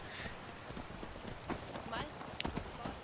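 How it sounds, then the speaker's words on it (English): Horse hooves clip-clop in a first-person riding video game, a light irregular patter of steps that is moderately close and sits under a person talking. "First-person horse riding is interesting, but the controls get very clunky."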